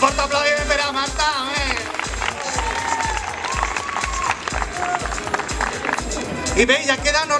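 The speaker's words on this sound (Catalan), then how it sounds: "Un fort aplaudiment per a Marta." A crowd at a secondary school ESO graduation ceremony bursts into loud, sustained applause for a student, clapping dense and continuous over a steady pounding music beat with faint voices mixed in.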